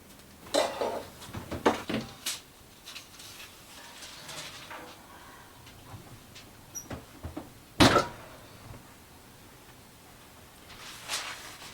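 Kitchen handling noises from covering a sausage and squash casserole with tin foil and shutting the oven: scattered clatters and rustles, with a sharp bang near the middle likely from the oven door closing, no talking.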